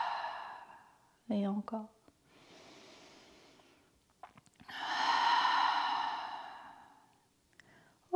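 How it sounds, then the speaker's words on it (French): Breathing during a gentle prenatal aerial yoga session: a long, airy exhale through the mouth swells and fades, preceded by a softer breath, with a voice speaking briefly between them. "Une expire par la bouche."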